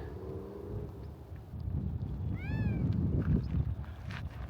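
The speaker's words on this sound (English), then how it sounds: "Sounds like a cat." A cat meows outdoors along a hiking trail at the Kuaua Pueblo ruins, giving one short rising-and-falling call midway through, fairly faint under steady wind and low rumbling ambience.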